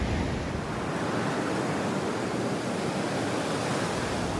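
Ocean surf at Legzira Beach, Morocco, rushing continuously as a loud, broad wash of waves with some wind noise on the microphone and no voices.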